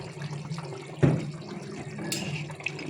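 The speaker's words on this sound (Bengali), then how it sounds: "তাই জন্য গরম জলটা দিয়ে দিই" Hot water is poured into a cooking pot of chicken and potatoes being simmered with gondhoraj lemon leaves, a steady splashing pour with a sharper splash near the start, close and moderately loud with no talking.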